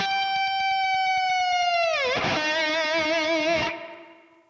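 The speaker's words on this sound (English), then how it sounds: "I'm going to hit that note and I'm going to apply some really aggressive vibrato," A sustained, distorted electric guitar note bends down, then wobbles with wide, aggressive vibrato before cutting off abruptly near the end.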